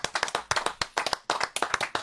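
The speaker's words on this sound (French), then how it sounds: "applaudir tout le monde" Audience clapping at the close of a French mystery-themed show, a close, lively burst of individual hand claps in a quick uneven rhythm throughout, with no talking over it.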